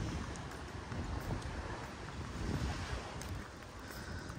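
Ocean waves and wind on the beach of a resort on Phu Quoc Island, Vietnam: a broad rushing roar of surf with gusty wind buffeting the microphone, swelling and easing slightly, with no voices.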